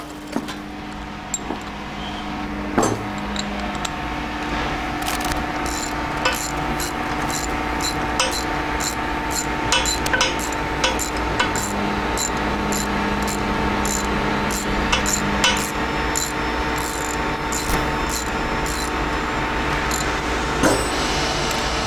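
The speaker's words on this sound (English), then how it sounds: "Tighten the gear clamps now." Gear clamps on a clamshell housing are tightened with a rapid run of small metallic ratcheting clicks, repeating in bursts over a constant mechanical drone close by.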